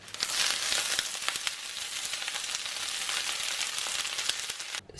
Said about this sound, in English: So I just briefly fried the spinach in the frying pan with some bit more coconut oil